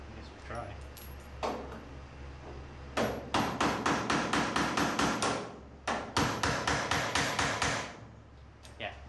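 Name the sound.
hammering a part in with a sledgehammer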